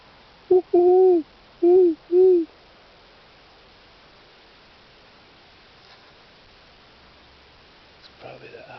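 An owl hoots outdoors, three to four clear, fairly close hoots in quick succession, followed by quiet ambient hiss and faint rustling.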